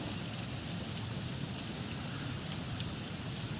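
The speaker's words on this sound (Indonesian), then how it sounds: "hujan deras guys." Heavy rain pours down in the video game Sengoku Dynasty, a steady, dense hiss that stays even and unbroken throughout, with no voices over it.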